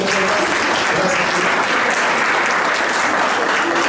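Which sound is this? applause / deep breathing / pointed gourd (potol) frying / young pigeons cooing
applause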